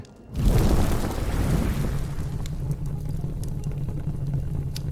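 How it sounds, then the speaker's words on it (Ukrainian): A loud drone-strike explosion bursts out after a brief quiet moment, followed by a sustained deep roar and low rumble of fire that lingers to the end. "Один дрон, вибух і моментальне загорання."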